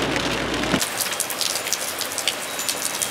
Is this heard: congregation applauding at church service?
no